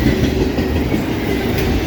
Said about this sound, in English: Heading eastbound on the Old Main Line.